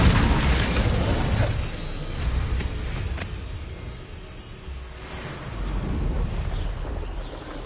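An Incendio fire spell cast in Hogwarts Legacy erupts in a loud, rushing whoosh with booming bursts, fading briefly midway before a second surge of roaring flame.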